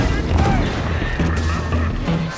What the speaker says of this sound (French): Ça a bien fonctionné la grenade.